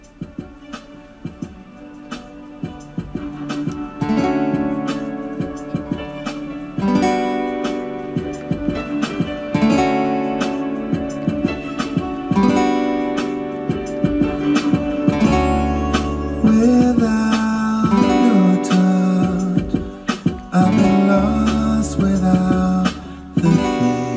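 Guitar strumming two chords from a song in a steady rhythmic pattern, with bright repeated strums and brief percussive hits, close, loud and continuous without talking.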